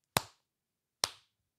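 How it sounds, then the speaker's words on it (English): Two single hand claps spaced almost a second apart, crisp and fairly close, a deliberately slow clap in an otherwise quiet space. "slow clap for James because you did beat Watermelon James this week"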